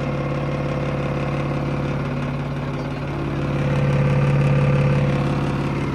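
A tractor engine running steadily in a video game, a loud continuous low drone with a vibrating hum that swells slightly toward the end.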